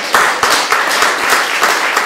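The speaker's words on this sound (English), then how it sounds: "round of applause for doing your best." An audience at a Wagner Society panel discussion claps in a steady round of applause, dense and close, lasting a couple of seconds with no voices.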